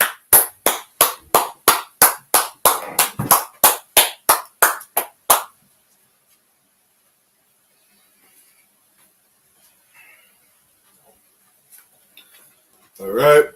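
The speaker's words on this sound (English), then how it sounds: "Let's clap it up." Closing a Tuesday night Brotherhood class, a group claps in a steady rhythm for about five seconds, sharp and close, then the room falls silent before a voice starts speaking.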